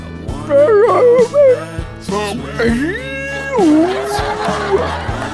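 A voice imitates a constipated dog, straining whines, yelps and drawn-out howling tones in short bursts, loud and close, before a live stage-comedy audience.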